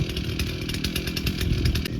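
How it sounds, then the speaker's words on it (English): A chainsaw cuts into a wooden fence post, its engine roaring loud and close in a steady, slightly pulsing rip with no voices over it. "Don't want to clog up your chainsaw."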